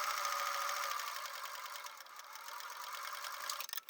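A sewing machine runs steadily while stay stitching fabric pieces for a flat cap, a close, continuous mechanical whir that fades slightly near the end with a few brief stops.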